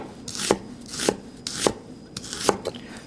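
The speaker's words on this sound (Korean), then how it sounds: "양파를 그냥 얇게 썰어 주시면 될 것 같습니다." An onion sliced thinly on a diagonal with a kitchen knife, about five distinct crunchy cuts at a steady rhythm, close and loud with no talking.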